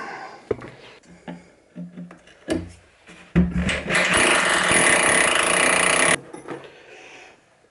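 A loud, steady power drill whirs for about three seconds while fitting floating shelves, preceded by scattered knocks and handling clatter, then stops abruptly.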